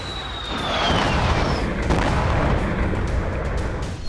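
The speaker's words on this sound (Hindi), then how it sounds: "कई धमाके हुए।" Repeated blasts from cluster munitions striking a military training ground, dense overlapping booms and rumbling bursts rolling continuously with a faint high whistle near the start.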